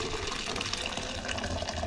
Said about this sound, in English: So I'm going to pour my tea, which is a little bit darker